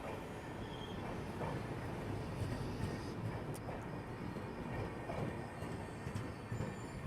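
Steady rumble and rattle inside a moving general coach of the Karnataka Express, with wheel noise and faint squeals carrying on continuously, no voices.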